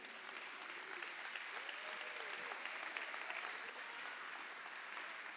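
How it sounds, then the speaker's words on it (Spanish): Sustained applause from a large crowd at a church gathering, dense clapping that continues steadily throughout, fairly loud and filling the space. "let's give the Lord a clap offering"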